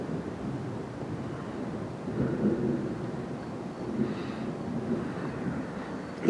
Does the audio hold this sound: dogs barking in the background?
no